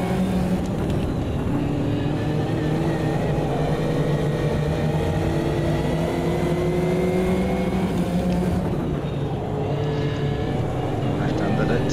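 Several race car engines from the Automobilista 2 racing game run close together, their high whining notes steady and overlapping, climbing and dipping as the cars jostle, loud and continuous throughout.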